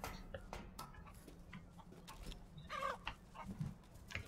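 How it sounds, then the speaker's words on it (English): Chickens cluck outside a village building in the horror video game Resident Evil Village. The clucks are faint and scattered, set against a quiet, noisy game ambience with occasional soft ticks. "There's chickens outside."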